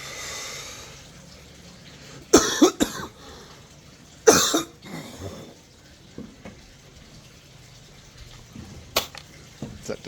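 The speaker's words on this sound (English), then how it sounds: "it's that disgusting cough I'm talking about." A harsh, disgusting cough bursts out in two loud fits a couple of seconds apart, followed by a shorter, fainter cough later, all against a quiet background with no talking.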